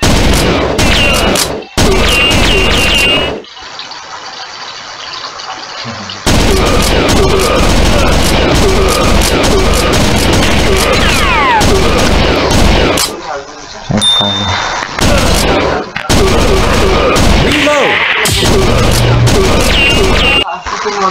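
Dense, loud gunfire from the Magnum weapon in the arcade shooter Virtua Cop 2, with rapid repeated shots, booms and game effects filling most of the stretch, broken by short quieter gaps.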